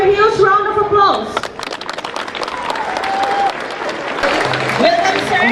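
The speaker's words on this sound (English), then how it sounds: "Let us all give him a huge round of applause." Applause for the chief guest at a school science and art exhibition, clapping rising after a voice speaks over a microphone, with talking and tonal sounds over the crowd's claps.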